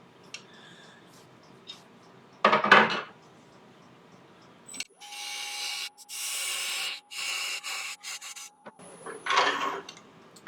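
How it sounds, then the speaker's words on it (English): Scraping, rasping skew chisel on teak wood from a lathe turning a hollow-form vase, in several steady bursts, with a brief louder scrape near the start and quiet workshop hum between. "I'll just refine that last little bit there with skew."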